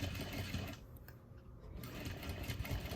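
A sewing machine stitching placemats, with a steady close mechanical whir and rapid needle rhythm that pauses briefly in the middle before running again, with no talking.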